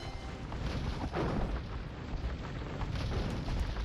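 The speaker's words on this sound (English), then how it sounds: "I heard some cannon guns from him as well" Cannon galleons firing in an Age of Empires naval battle, a dense rumbling wash of overlapping booms and explosions at a steady, moderate loudness, with no voices.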